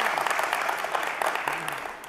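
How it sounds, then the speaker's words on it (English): Conference audience claps in a large hall, a short burst of many hands that stays steady and then tapers off toward the end. "I think that deserves a round of applause."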